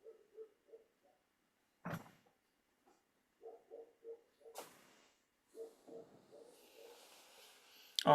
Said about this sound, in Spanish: Voy a cerrar la ventana